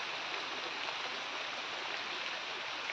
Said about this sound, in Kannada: ಇದು ಮಳೆ ಬರ್ತಾ ಉಂಟು ಮಳೆ ಬರ್ತಾ ಉಂಟು